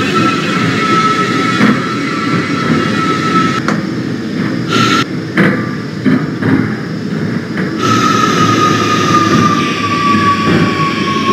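Simulated R179 J subway train running on the line toward Broad Street via Myrtle Avenue, a loud continuous rumble with wheel squeal and brief clicking changes as it travels, no voices.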